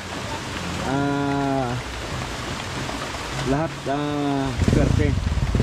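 Steady rain falls continuously, with a constant wash of noise throughout, while people talk over it nearby.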